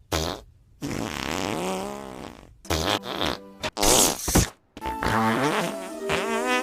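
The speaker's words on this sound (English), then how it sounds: "It's farts. Of course it's farts!" A rapid series of cartoon fart sounds from The Simpsons, several loud buzzing, pitch-sliding blasts with short gaps between them, heard alone without talk.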